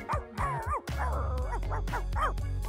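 A dog barks and yips several times in quick bursts, close and loud, with whimpering tones between barks over a steady low background hum.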